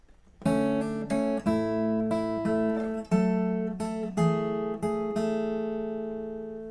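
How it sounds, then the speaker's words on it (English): An acoustic guitar plays the short picked verse riff of a song, about a dozen strums and plucked notes in a relaxed rhythm, ringing out at the end; no talking. "And altogether, the verse riff will sound like this."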